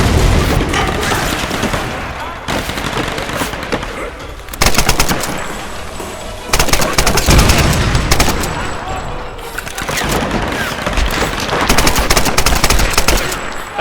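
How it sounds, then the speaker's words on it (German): Rapid bursts of automatic gunfire lay down suppressive fire in Tomb Raider (2013), loud sustained volleys broken by short pauses and occasional booms, with someone talking faintly at times. "Wieder mit Sperrfeuer."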